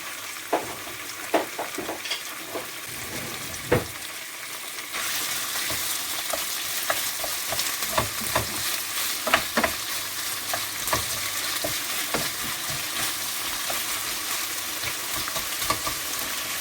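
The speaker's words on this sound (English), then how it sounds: "The sweet pepper, the chicken breast, they will all cook all together at the same time." Chicken breast and sweet pepper fry in a pan for a pepper sauce, a steady sizzle that grows louder partway through, with scattered clinks and scrapes of stirring.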